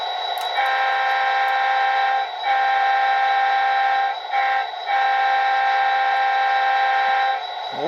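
A Bachmann HO scale EMD SD40-2 model locomotive sounds its grade crossing horn sequence: long sustained chord blasts broken by short gaps into the familiar long-long-short-long pattern, loud and close.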